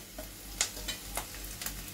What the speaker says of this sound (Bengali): এবার আমি এই যে কেটে রাখা টমেটোগুলো দিয়ে দিচ্ছি